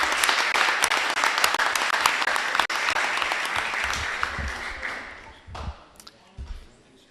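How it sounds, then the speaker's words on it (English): An audience at a school board of education meeting claps for several seconds, a dense crowd applause that thins and trails off into scattered claps toward the end. "A round of applause for Nicole Worster"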